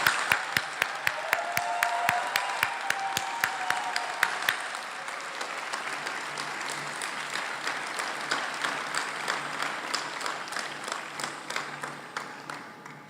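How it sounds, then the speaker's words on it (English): Audience applause at a spring commencement ceremony of a college of art and design, beginning with a few sharp, distinct claps that swell into a sustained, moderately distant round of clapping. "Let's have a round of applause for Associate Dean Safranco."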